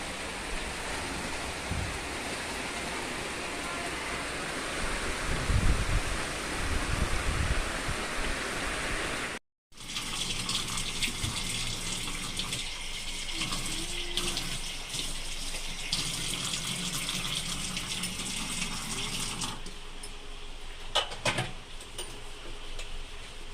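Heavy water rushing across a flooded road on a rainy day, a steady loud wash of flowing water with a brief dropout midway, then continuing with scattered splashes.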